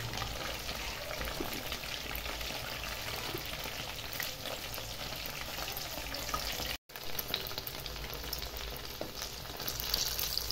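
Chicken pieces for a Bengali-style chicken saute deep-fry in oil with a steady, dense sizzle throughout, broken by one brief silent gap midway.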